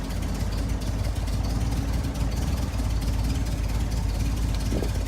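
A 1961 Triumph TR3A engine, just started and given some fuel, runs with a steady, loud low rumble and a continuous chugging beat that holds even throughout.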